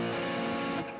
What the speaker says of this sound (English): and a minor chord would sound like this.